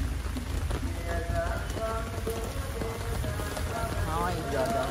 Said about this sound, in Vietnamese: Trời đang mưa rất là to luôn.